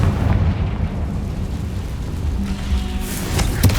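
A Confringo fire spell blasts in Hogwarts Legacy, a loud, dense, rumbling explosion that fills the whole clip with heavy low roar and crackling bursts, with no talk over it.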